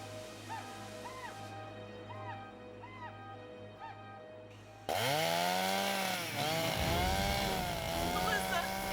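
A chainsaw cutting into a fallen tree roars in suddenly and loudly after a quieter idling stretch, its pitch bogging down and rising as the chain bites, close by.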